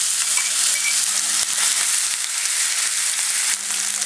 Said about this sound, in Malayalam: ഇത് ചേർക്കുന്ന സവാളയാണ്.